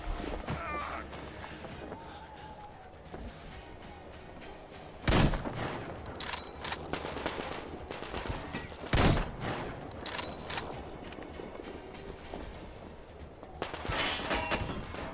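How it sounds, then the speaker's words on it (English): Enemy gunfire in the Metro Exodus video game cracks out as a few loud, sharp bursts spaced several seconds apart, standing out over a steady bed of game ambience. "How is he shooting through that?"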